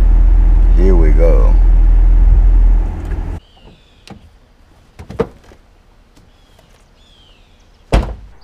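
A Ford Mustang convertible lowers its power roof: a faint electric motor whine with several mechanical clicks and thunks, then one louder clunk near the end. Someone talks loudly at the start.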